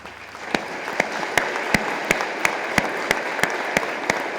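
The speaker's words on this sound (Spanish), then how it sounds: "vamos a aplaudirle al Señor de la exaltación" A Catholic congregation at the octave Mass honoring the Señor de la Exaltación claps along, sharp unison claps landing in a steady, even beat about three per second over a softer bed of scattered applause.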